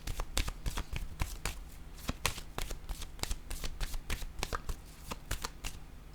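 Oracle cards are shuffled and drawn by hand, a rapid run of crisp riffling snaps and soft flicks in an irregular rhythm, close and fairly quiet with no talk.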